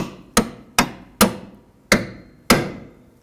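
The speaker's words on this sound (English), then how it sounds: "Now tap the bolts through." Hammer tapping bolts through the rear strut of a 2001-2007 Toyota Highlander, five sharp, loud metallic blows at an uneven pace, each ringing briefly before the next.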